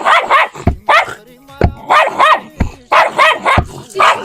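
A young female dog barks close by in a string of loud, sharp yips and barks, about eight in quick irregular bursts, with brief gaps between them.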